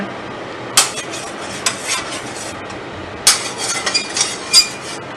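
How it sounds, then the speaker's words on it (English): A spoon stirs salted food in a cooking pot over fairly quiet background hiss, making a few sharp scraping clinks and light knocks against the metal in an uneven rhythm. "Go ahead and just give that a little stir."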